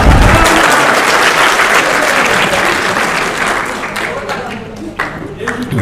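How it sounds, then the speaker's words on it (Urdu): An audience gives a loud, sustained round of applause and clapping that fills the whole stretch, with some voices mixed in and the applause thinning slightly toward the end. "ان کی کمپیرنگ کے لیے تالیاں ذرا"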